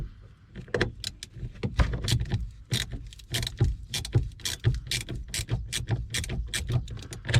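Metallic clicks and ratcheting from a 10mm socket wrench loosening the negative terminal of an Alfa Romeo Giulia's car battery, a quick rhythmic series of close, sharp ticks with a low hum underneath.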